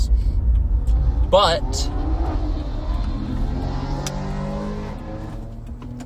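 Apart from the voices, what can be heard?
extremely loud car passing in the middle of the night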